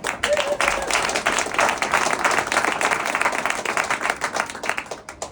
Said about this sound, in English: So Paul Polman, a round of applause for Paul